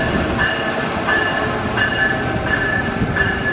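A train rolls past at North Philadelphia station in Pennsylvania, loud and close, with a steady rumble and a regular clickety-clack of wheels over rail joints roughly every two-thirds of a second.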